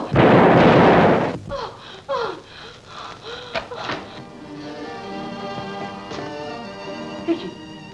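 A loud, booming gunshot blast opens, followed by a few sharper bangs and echoing cracks that fade into a lingering ringing tone.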